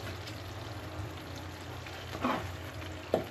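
Laing, taro leaves in coconut milk, simmers as its oil separates, giving a soft continuous sizzle and bubbling with a couple of brief louder pops or stirs near the end.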